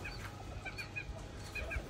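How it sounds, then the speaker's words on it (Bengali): A rooster clucks softly in a bird loft among fancy birds and parrots, low repeated clucks over a faint hum, with no voices. "মোরগ"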